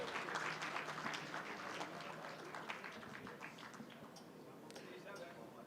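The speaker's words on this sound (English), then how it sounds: "A huge round of applause." A conference audience applauds during a shield presentation at the World Islamic Economics and Finance Conference, with scattered clapping that starts fuller and thins toward the end, fairly faint, alongside some speech.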